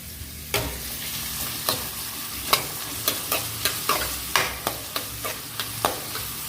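Chopped onions frying in a pan for a bussaru and greens dish, with a spatula scraping through them in a steady series of about a dozen sharp strokes over a low, continuous sizzle.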